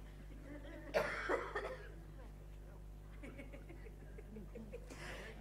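A close cough bursts out once, followed by a second smaller cough, then quiet room tone with faint murmuring.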